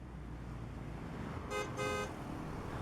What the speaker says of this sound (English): Oh, don't mind that honking sound. There's a bit of traffic outside today.